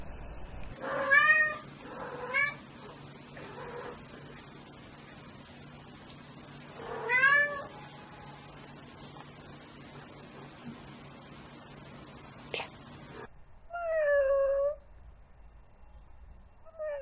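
A cat meows several times in separate bursts, fairly close and clear over a faint steady background hiss, with a last longer drawn-out meow near the end.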